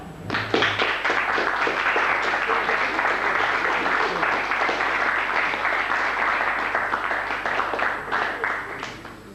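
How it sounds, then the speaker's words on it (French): Sustained applause from the audience at an association's general assembly, with dense, even clapping throughout that eases off near the end. "je pense que je peux les applaudir"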